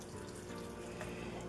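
Liquid pours steadily into cornbread dressing in a kitchen, a soft continuous splashing trickle heard close but faint, with no talking.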